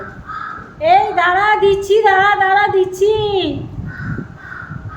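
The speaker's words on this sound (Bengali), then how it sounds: "ওই দেখো কাকগুলো ডাকছে খাবার দাও" Crows near a home caw for food in a drawn-out, harsh call lasting a few seconds, loud and close, while someone talks over and around it.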